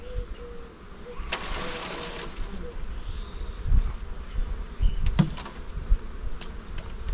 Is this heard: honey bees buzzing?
yes